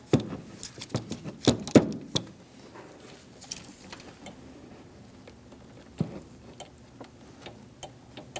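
A torque wrench on a swivel tightens an AC line fitting on a 2006-2011 Chevrolet HHR, giving a run of close, sharp ratchet clicks that bunch up at first and then thin out into sparse, quieter ticks.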